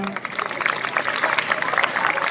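Crowd claps together in a brisk, continuous burst at a village Republic Day ceremony at a government senior secondary school, honouring the principal.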